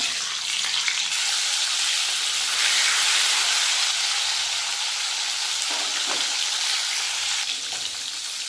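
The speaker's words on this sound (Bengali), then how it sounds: "তেলের মধ্যে দিয়ে দেবো লবণ, দিয়ে দেবো সিদ্ধ করে রাখা ডিম" Boiled eggs frying in mustard oil with salt in a wok, a loud, steady, close sizzle that hisses continuously without a break.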